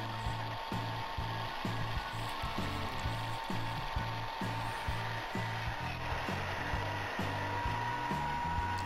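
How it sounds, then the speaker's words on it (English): A belt sander fitted with coarse 40 and 80 grit belts grinds bevels on a spring steel knife blade, giving a loud, continuous motor whine over an even, rhythmic low thumping from the belt, with no talking. "I did this with a 40 and then an 80 grit on the belt sander"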